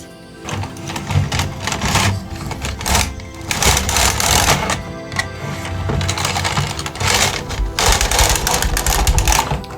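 A 1990s knitting machine knitting yarn, with loud, busy clattering and rattling as the carriage sweeps back and forth in several long passes with short breaks between them.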